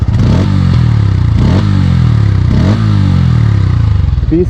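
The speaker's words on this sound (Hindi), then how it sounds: "अगर मैं आप लोगों को यहाँ पर P150 के बारे में थोड़ी सी एग्जॉस्ट साउंड बताऊँ" A Bajaj Pulsar P150 motorcycle's exhaust, loud and close, with a low pulsing thump and several blips of revving in quick succession.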